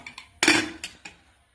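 Metal clanks from a pressure cooker lid being set and closed over kuzhimandhi rice smoked with burning coconut shell: a few short clinks, then one louder ringing clang and two lighter taps, close and alone.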